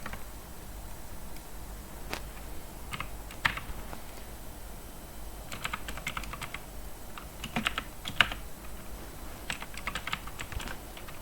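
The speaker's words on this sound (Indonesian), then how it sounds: "kemudian kita ketik" Steady typing on a computer keyboard, many soft, irregular key taps with a few louder presses over a constant background hum, close by and with no talking.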